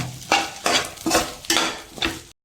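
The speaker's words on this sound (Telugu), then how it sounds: "కారం, మిరియాల పొడి, ధనియాల పొడి, కొద్దిగా చికెన్ మసాలా వేసుకొని కలిపేసుకుందాం." Egg vermicelli fries in a pan while spices are stirred in, with four distinct scraping strokes of the utensil over a soft sizzle, close and rhythmic.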